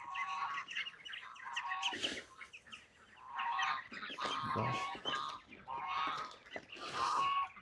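Farm ducks call in bursts of nasal quacking and honking, several birds close by with short pauses between outbursts, and a voice speaks briefly.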